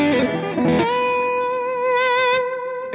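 Lap steel guitar played through a Righteous Sound single coil pickup, a chord struck then a clean sustained note ringing out loud and close, with a brief swell of added harmonics midway.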